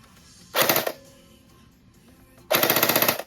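An FN Herstal P90 fires two short, loud bursts, the second longer with rapid distinct shots, separated by a quiet pause with faint mechanical handling noise.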